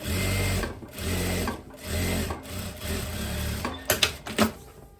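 A sewing machine stitches a tweed overcoat in short, rhythmic bursts of mechanical chatter, pausing between runs, and a few sharp clicks come near the end.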